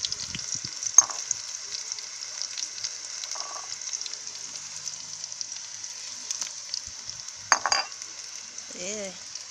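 Mackerel, hot pepper and dumplings sizzling and simmering in a pot over an outdoor fire, a steady frying hiss with occasional utensil clinks and scrapes, no talking.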